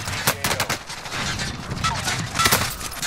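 Rapid gunfire in Call of Duty: Modern Warfare, loud bursts of automatic shots cracking in quick succession, some fired through a wall, with voices in the clip.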